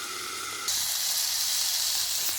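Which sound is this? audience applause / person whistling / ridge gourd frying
ridge gourd frying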